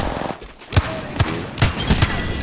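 Wingman pistol firing in Apex Legends: a run of sharp, punchy shots spaced irregularly about half a second apart, loud and close over steady game ambience.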